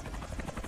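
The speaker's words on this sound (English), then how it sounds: "you got to fight this big helicopter" Helicopter in the PS2 video game From Russia with Love, a steady whirring rotor drone with faint rhythmic chopping, continuous and fairly loud throughout the short moment with no talk.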